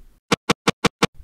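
A snare drum sample in Serato Sample, only part of it triggered, gives five short, sharp, evenly spaced hits in quick succession with silence between them.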